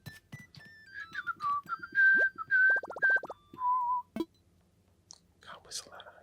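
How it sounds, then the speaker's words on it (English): A person whistles a high tune in a string of rising and falling notes and quick trills, with soft breathy whispers around the notes and a few faint clicks near the end. "I can't whistle that high."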